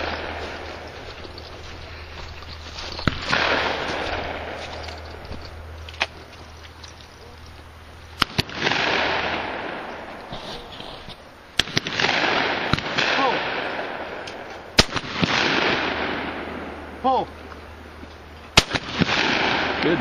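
Shotgun blasts at a skeet shooting range, several loud sharp reports spaced a few seconds apart, outdoors with people talking between the shots.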